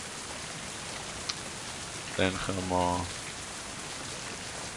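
Constant rainfall hisses through the game world of Mind: Path to Thalamus, an even wash of drops that continues while someone speaks briefly partway through.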